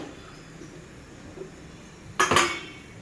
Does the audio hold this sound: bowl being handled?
yes